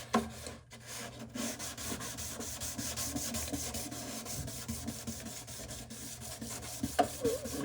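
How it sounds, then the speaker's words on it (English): A plastic car headlight is hand-sanded with the coarsest pad from a Turtle Wax restoration kit, giving close, rhythmic scratchy rubbing strokes that continue steadily with no voices. "And this will scratch your headlight a lot. All that white coming off of there is actually plastic."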